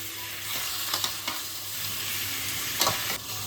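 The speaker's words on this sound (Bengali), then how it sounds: "এবার এটাকে ভালোভাবে আগে চিকেনটাকে ভেজে দেব" Boneless chicken cut into medium pieces fries in a pan for a Bengali pineapple chicken dish, a steady close sizzle with a few sharper stirring clatters and no talk.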